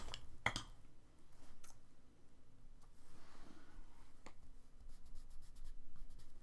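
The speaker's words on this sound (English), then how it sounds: "if you grind it in like I'm doing right here, like that's really pushing it into the paper" Charcoal stick scraping and grinding into drawing paper, a soft continuous scratchy rub with a few sharper clicks, close and quiet.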